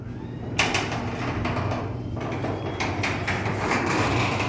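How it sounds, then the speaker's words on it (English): Garage door fitted with nylon rollers, near a backyard pool, rolls along its track in a steady broadband rumble with rattling bursts, loud and continuous throughout without talk. "I want you to hear how the door is sounding."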